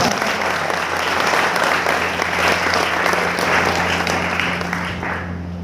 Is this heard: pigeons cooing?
no